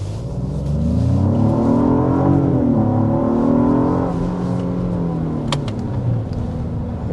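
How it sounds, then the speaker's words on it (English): A 2025 Genesis GV80 Prestige accelerating hard from inside the cabin, its engine note rising in pitch through gear shifts as a steady loud drone with road noise, and no talking over it. "we're going to go ahead and start with a hard acceleration."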